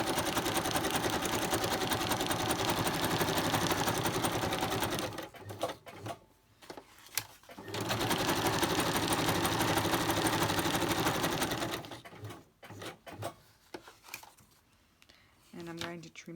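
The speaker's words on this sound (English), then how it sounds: "Put the sewing machine over, I've got my zigzag on." A sewing machine runs zigzag stitching in two long steady bursts of rapid mechanical stitching, with pauses and quieter handling noises between them.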